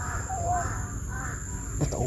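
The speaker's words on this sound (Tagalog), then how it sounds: "May ibon." A crow gives a single hoarse caw at moderate distance over a constant background hiss, followed by a faint knock near the end.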